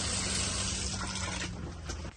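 Water runs steadily from a travel trailer RV bathtub faucet connected to city water after the valves are opened, producing a continuous close hiss and splash that eases slightly toward the end.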